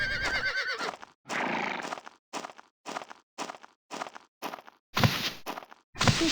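Several horses whinny and neigh at a horse farm in the online role-playing game Ultima Online, with repeated short bursts and pauses between calls, some louder and closer, alongside faint hoof clops, with no talking.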